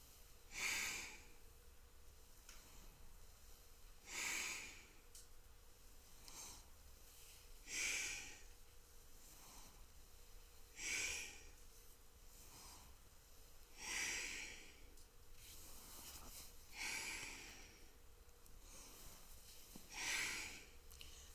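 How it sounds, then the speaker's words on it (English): Deep yoga breathing in a steady rhythm, each long noisy inhale or exhale through the nose coming every three to four seconds, close and fairly faint, with no talking. "Let your breath get big and deep."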